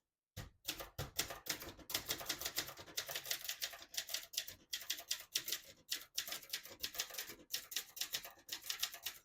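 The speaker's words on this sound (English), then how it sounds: "Beautiful typing machine." A 1971 Brother Opus-210 portable manual typewriter typing steadily, with fast, sharp key strikes in quick bursts and brief pauses, close and clear with no talking.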